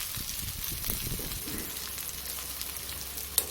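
Spiced potatoes frying in oil seasoned with cumin and asafoetida, a steady close sizzle running throughout with a few soft stirring scrapes and one sharp clink near the end.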